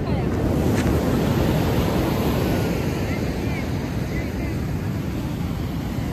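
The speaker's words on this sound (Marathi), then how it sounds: "हा आमचा कोकणचा समुद्र आहे, अरबी समुद्र." Waves of the Arabian Sea breaking on a Konkan beach, a loud continuous roar of surf mixed with wind buffeting the microphone, with voices faintly audible.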